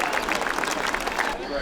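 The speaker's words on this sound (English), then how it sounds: "Why don't you give all the participants in the parade a tremendous round of applause" A large outdoor crowd applauds participants of a small-town Montana centennial parade, a steady wash of dense clapping sustained throughout with a voice briefly audible over it.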